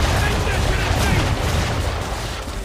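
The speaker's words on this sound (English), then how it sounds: "aim all guns at her bow and do as much damage as possible" A ship's cannons firing a broadside in Assassin's Creed 3 naval combat: a loud, continuous roar of blasts and rumbling booms that holds steady and tails off slightly.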